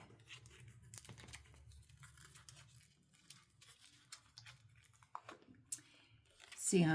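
Paper is trimmed for a mosaic frame page with scattered small snips, rustles and clicks, quiet and close, while someone talks softly throughout.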